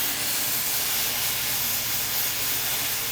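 A pressure cooker cooking mung beans lets out a continuous, loud steam hiss that holds steady throughout, with no voices over it.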